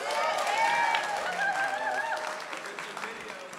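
Applause rises from the audience at a live retrospective event as a speaker comes up, a short burst of clapping under cheerful voices and calls that slowly settles.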